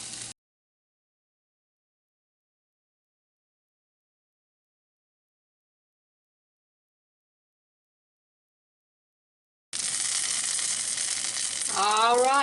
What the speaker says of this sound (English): I'm just going to let this heat on the eye till my cheese on top melts